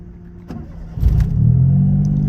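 A Suzuki Cappuccino engine cranks briefly and catches, settling into a steady low rumble that continues to the end.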